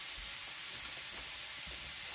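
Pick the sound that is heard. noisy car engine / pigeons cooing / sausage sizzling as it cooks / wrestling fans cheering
sausage sizzling as it cooks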